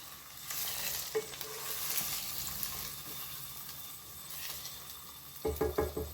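Drumstick leaves and egg frying in a pan give a steady close sizzle, with utensil scrapes and stirring knocks that grow busier near the end, and no voices.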